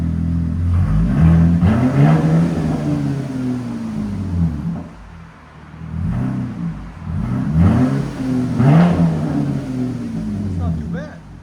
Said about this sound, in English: Go ahead and give it gas.